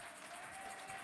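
A church congregation claps together in a brief, steady burst of applause heard from a distance, faint and continuous with no pauses.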